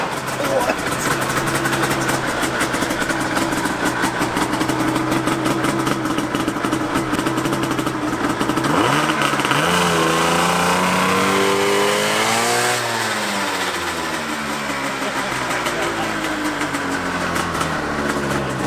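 A Mazda RX7 fitted with a snowmobile engine runs loud and close, a harsh buzzing idle that climbs into a sweeping rev and falls back, with vibration-heavy drone throughout and people talking over it.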